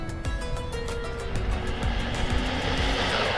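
A Team Corally Kagama 6s RC car on a speed run, its electric drive whining steadily and loudly with a rising pitch through the short pass, nearby and with no talking.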